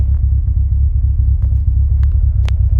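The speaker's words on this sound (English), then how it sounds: "So we'll go ahead and start it. That's without touching the gas. And it's right back to a decent idle." A car engine idles steadily just after starting, a low, even rumble close by and fairly loud, with a few faint clicks and taps over the constant drone.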